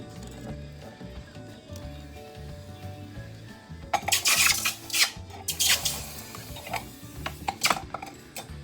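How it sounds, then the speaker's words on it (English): Copper tongs dip silver wire into a pickle bath: a quiet stretch, then a cluster of sharp metallic clinks and splashy knocks close by, with no talking. "Copper tongs going into the pickle."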